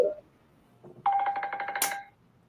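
A phone rings with a rapid electronic trill that starts after a soft knock, runs for about a second, and ends in a sharp bright burst before falling quiet.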